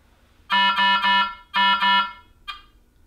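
An ultrafiltration machine's speaker test sounds a clean electronic tone in two groups of beeps, three and then two evenly spaced pulses, followed by a brief fainter chirp, with no talking.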